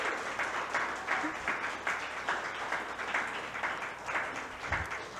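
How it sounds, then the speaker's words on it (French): A small audience at an evening psychology talk gives presenters a final round of applause, a faint, steady patter of clapping heard from some distance and lasting several seconds. "On peut les applaudir une dernière fois."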